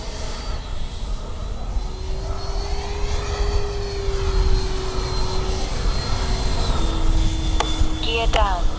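A Taft Valkyrie 90mm RC jet plane flies past with a steady, loud turbine whine that rises and falls in pitch, over constant wind noise, with a brief crackle of handling sounds near the end.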